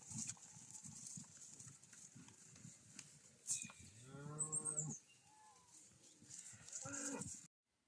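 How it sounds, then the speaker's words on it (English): Cattle mooing near a boat trip at San Pedro: several drawn-out low moos in a row, with one louder call in the middle and another near the end, over a faint outdoor background with a few scattered knocks. "There is no way I was going anywhere near them cows"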